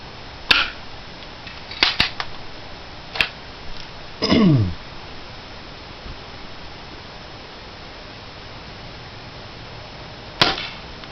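Sharp cracks from a Crosman Legacy 1000 air rifle firing BBs at a copper pan, about five shots spaced irregularly over several seconds with quiet gaps between them, one shot slightly drawn out.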